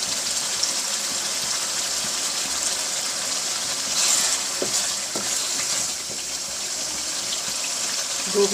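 Meat for a cauliflower-and-meat curry (gobi gosht) sizzles and fries in a pan, a loud, continuous hiss with occasional stirring clatter close by.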